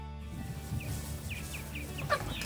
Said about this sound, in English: We've got a bunch of chickens back there